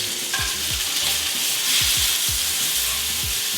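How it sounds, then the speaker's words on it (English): Beef fillet sears in a hot pan, giving a steady loud sizzle and hiss with several short scraping or shifting sounds as the meat is moved, and no talking. "Now we're just gonna sear this other side,"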